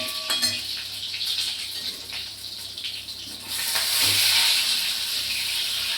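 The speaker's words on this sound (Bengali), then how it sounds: "ডিমগুলো ভাজা হচ্ছে, একটু ডিমের উপরে একটু হলুদ দিয়ে দিচ্ছি" Eggs frying in a pan with a soft, close sizzle, light utensil clinks and scraping, the hiss swelling louder partway through, with no talking.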